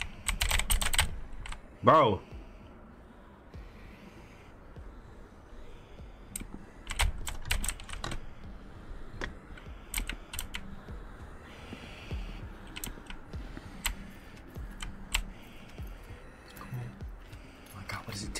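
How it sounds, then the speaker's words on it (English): Loud clacking of a computer keyboard with suppressed switches, bursts of rapid keystrokes close to the microphone, scattered across the stretch under quiet voices chatting during a Dress To Impress game session. "you need to get a more silent keyboard"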